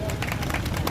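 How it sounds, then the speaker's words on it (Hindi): A crowd claps loudly at a protest sit-in in Hanumangarh, producing a dense, steady wash of close claps that fills the whole brief moment. "मिलाओ तालियां जोरदार।"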